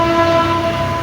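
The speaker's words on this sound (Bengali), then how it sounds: "দেখতে পাচ্ছেন ট্রেন হর্ন দিতেছে, সুন্দরভাবে আসতেছে অনেক জোরে জোরে।" A loud, sustained train horn sounds as a train approaches beside a railway track, its steady multi-tone blast holding for the whole second over low rumble.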